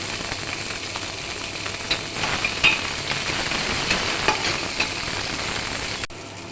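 Panch phoron spices fry in a pan with a steady, close sizzle and faint stirring scrapes, a few brighter crackles popping through before the hiss cuts off abruptly near the end.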